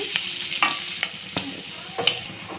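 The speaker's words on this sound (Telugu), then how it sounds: "రెండు పచ్చిమిర్చి కూడా వేసి బాగా ఫ్రై చేస్తాను" Onions and green chillies fry in a pan over a steady sizzle, broken by about half a dozen sharp scrapes and knocks as a spatula stirs them, with no voices.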